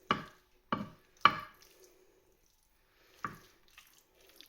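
A spoon stirs a pot of mushroom risotto, making a few separate wet knocks and scrapes, three quick ones and then a pause before a couple more, quiet and close.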